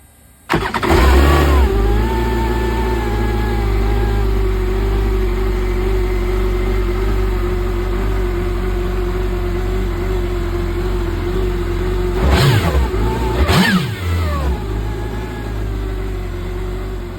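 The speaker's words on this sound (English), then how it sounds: "now it's time to start up the ski on the hose. Let it idle." A Kawasaki Ultra 310 jet ski engine cranks and catches near the start, then settles into a loud, steady idle on a flushing hose, with a couple of brief revs or blips later on. No one speaks.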